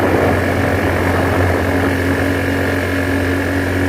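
A motorbike engine runs steadily on a hilly mountain road toward Thanchi, a close, continuous low hum with an even drone and no pauses.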